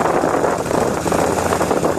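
Can-Am Outlander ATV engine given a little throttle, a rough, dense mechanical roar with wind buffeting, close and continuous for a couple of seconds.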